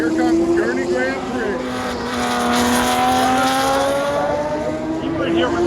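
A Gurney IndyCar race car drives by with a loud, whining engine tone that rises and falls, while someone talks over it.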